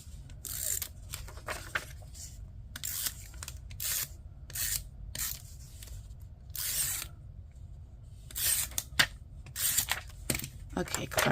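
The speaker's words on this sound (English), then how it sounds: "let's just go ahead and put a tape runner on it" A tape runner lays adhesive on paper in a planner, making a series of short, close rasping strokes with brief pauses between the passes.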